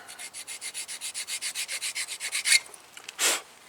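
Brisk back-and-forth scrubbing on the metal surfaces where brake pad hardware sits on a 2015 Toyota RAV4 front brake, about twenty even rasping strokes at a steady rhythm, close up, ending in a couple of sharper scrapes with no voices.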